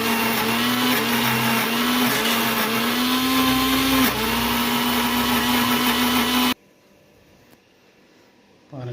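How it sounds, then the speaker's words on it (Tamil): A mixer grinder whirs loudly and steadily as it grinds pirandai (adamant creeper) into chutney, its motor humming with slight pitch dips, then cuts off abruptly into near silence before a brief bump. "இப்போ வந்து நம்ம இந்த பிரண்டையெல்லாம் அரைச்சி எடுத்துக்க போகிறோம்"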